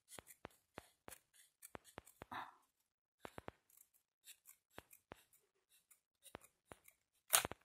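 Quick, crisp snips of scissors cutting paper a small piece at a time, a rapid series of short clicks in irregular bursts, close and quiet, with a soft rustle partway through.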